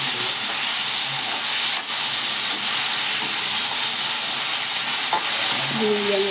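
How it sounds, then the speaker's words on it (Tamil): Onions and tomatoes sautéing in oil for a fish curry, a loud steady hissing sizzle that fills the whole stretch, with a few soft stirring knocks near the end. "போட்டு நல்ல எண்ணெயில் ஒரு 5 நிமிஷம் வதக்கணும்."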